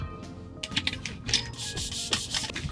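Clicky keystrokes on a wireless keyboard paired with a Galaxy Tab at a campsite, a close run of irregular taps and soft rubbing bursts with no voices.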